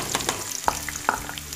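Finely chopped large onion dropped into hot oil for a fish curry, giving a brief crackling sizzle with a couple of sharp pops and spoon clinks, quiet and close, no talking.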